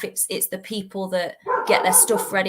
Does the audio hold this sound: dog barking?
yes